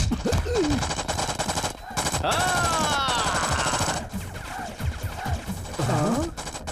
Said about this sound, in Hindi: भाई दीवार पर गोली क्यों चला रहे हैं?